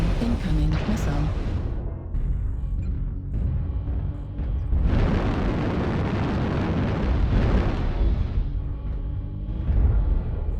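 Missile explosions in the combat game PSR, a loud, sustained roaring blast around the middle of the clip with heavy rumbling debris, set among continuous game noise and a synthetic warning voice.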